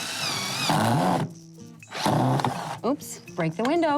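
Power drill driving screws during a home renovation, with short whining bursts of the motor between stretches of people talking.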